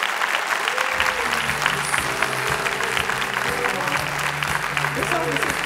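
An audience at a business evening event in Lille applauds loudly for the president of Opcommerce, continuous dense clapping over a low musical backing, with a short silent lead-in before the applause starts.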